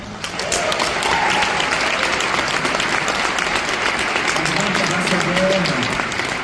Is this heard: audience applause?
yes